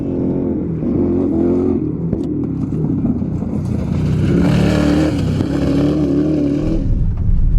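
A Chevy Silverado race truck drives past with a steady, loud engine roar that swells in the middle and holds, fading slightly toward the end, with no talk over it.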